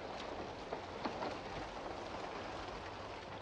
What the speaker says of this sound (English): I just love the rain sound as well in this game.